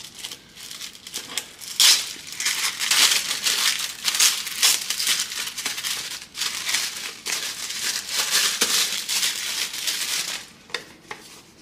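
Packaging for a Versace card holder crinkles and rustles up close as it is unboxed, with paper and plastic handled in quick bursts and no talking.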